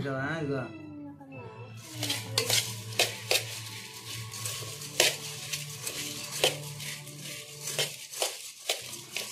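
Repeated scraping and stirring of a dry puffed rice mixture in a bowl, with short clatters at an irregular pace, close by, while a person talks over it.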